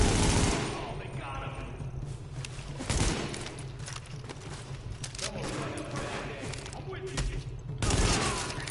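Rapid automatic gunfire bursts from The Division video game, with a dense crackle of shots and thuds at moderate level, mixed with game sound effects throughout.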